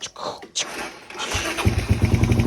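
A freshly repainted green motorcycle's engine cranking and catching after a few clicks and brief voices, then settling into a loud, close, steady running putter.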